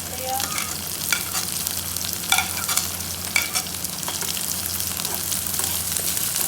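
Ginger and onions fry in a pan for a bottle gourd curry, a continuous close sizzle broken by scraping stirs and small clatters of the spoon against the pan.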